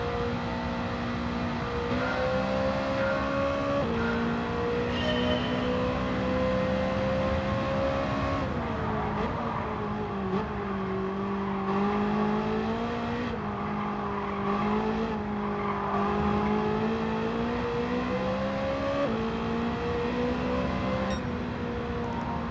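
A BMW M3 races through the consecutive curves after the high-speed straight at Daytona in Gran Turismo 7, its engine droning steadily and loudly with pitch rising and falling through gear changes and corners.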